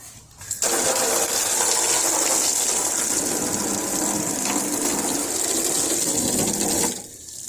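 A water hose sprays steadily into the opened back of a filthy 25-inch 1997 Philips Magnavox TV, a loud continuous hiss that starts abruptly and cuts off near the end.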